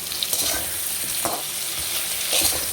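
Tomatoes stirred into potatoes frying in a pan, a steady close sizzle with soft scraping stirs throughout.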